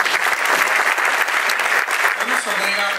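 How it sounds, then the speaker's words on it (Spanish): Audience at an official civic gathering applauds loudly, a dense sustained wash of clapping with a voice faintly audible underneath toward the end. "El aplauso fuerte, por favor."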